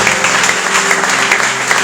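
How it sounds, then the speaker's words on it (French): A church congregation applauds steadily during a French-language worship service, dense sustained clapping filling the room with no pauses. "Alors, est-ce qu'on peut acclamer s'il vous plaît?"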